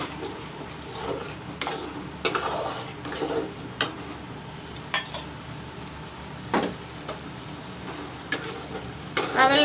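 Cauliflower and potato fry with turmeric in a pan, giving a steady close sizzle broken by repeated scraping and stirring strokes of a utensil against the pan.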